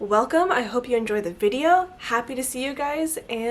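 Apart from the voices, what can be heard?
No everyday noise stands out behind the speech.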